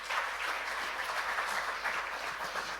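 Congregation applauding during a Sunday church celebration, a steady wash of many hands clapping at moderate distance, sustained evenly throughout without speech.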